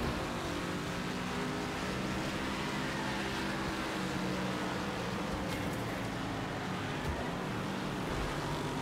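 Car engine in the racing game Wreckfest, a steady dense drone with constant road and wind roar, evenly loud throughout and no spoken voice.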